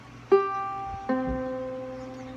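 Two ukulele strums about a second apart, each ringing out with bright sustained harmonics, the second slightly sour with one string out of tune, no voices.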